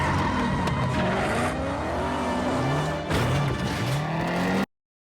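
A car in the film Need for Speed makes a hard left turn, a loud continuous engine roar with squealing tires and skidding sliding in pitch, mixed with film score, cutting off abruptly near the end.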